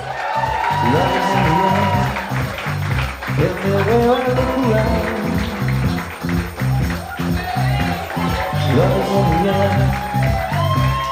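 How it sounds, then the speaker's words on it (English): Wedding guests cheering and applauding as the bridal party enters a reception, partly buried under loud pulsing music with a steady beat, with whoops and crowd noise rising in bursts. "Give them a big round of applause."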